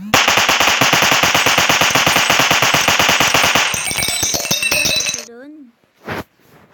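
A rapid-fire machine gun rattles in the mobile shooting game i Gun Pro, a fast regular burst of loud close shots for about five seconds, ending with metallic clinks as casings fall and one final separate shot.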